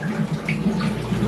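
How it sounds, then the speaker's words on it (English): Water bubbles and gurgles steadily in a 125-gallon aquarium tank, a close, continuous trickling churn with a faint rhythmic pulse and no talking. "That thing is bubbling."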